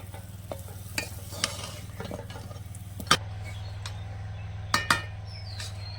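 Thickening jaggery is stirred in a pan with the heat turned off, giving repeated scraping strokes and sharp metallic knocks of a spoon against the pan over a low steady hum, with no talking.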